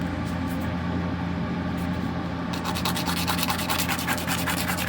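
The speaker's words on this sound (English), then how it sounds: "lightly sand the surface of the light" Light sanding of the surface of a plastic model ship light with an emery board: close, steady rubbing strokes that become a quicker, brighter scratching rhythm in the second half.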